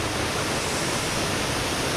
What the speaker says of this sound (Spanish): Esta es la cascada de Bonitá.